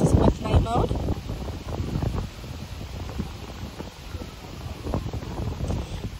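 Wind gusting outdoors at night, buffeting the microphone in low rumbling bursts that are strongest at the start and then settle into a steady rush, with a person talking over it.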